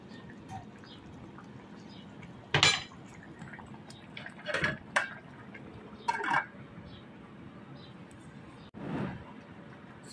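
A lid clanks back onto a pot of simmering sotanghon noodles with pechay, several separate metallic knocks and clinks against a quiet kitchen background, and no one speaking.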